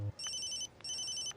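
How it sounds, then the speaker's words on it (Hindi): A phone rings in a South Indian action film dubbed into Hindi, with two bright electronic ringtone bursts and a short gap between them, heard alone and clearly with no talk. "अबे किसका फोन है?"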